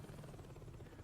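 Helicopter in the game Saints Row 2, a steady low rotor drone and hum throughout, fairly quiet and continuous with no talk.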